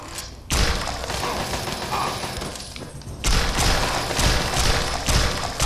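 A stick strikes a mole rat in Fallout 3, with two heavy, close thuds, each followed by a dense, rumbling wash of game noise.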